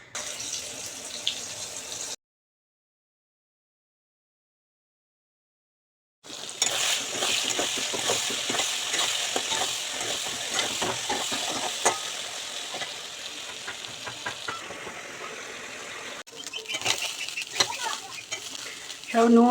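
Spiced food with salt, turmeric, ginger and garam masala frying in a kadai while being stirred, a steady close sizzle with scraping stirs, broken by a few seconds of silence, with faint background talk.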